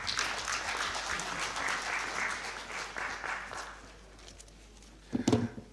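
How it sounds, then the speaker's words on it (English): An audience at a conference on improvised mines applauds warmly for about four seconds, the clapping tapering off before a few louder bumps near the end. "With a round of applause, shall we welcome Mr."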